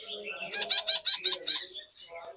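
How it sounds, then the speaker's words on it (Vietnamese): Parrot calling at a bird farm, a rapid series of about six harsh, rhythmic squawks followed by softer chatter, close and fairly loud. "Đây là vẹt cực hồng thì phải."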